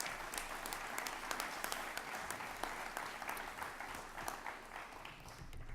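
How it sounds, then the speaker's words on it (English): A large audience applauds steadily at an awards-style event for a 19th-century baseball program, dense clapping sustained at even strength throughout with no talk over it. "But let's give Robert a round of applause in absentia."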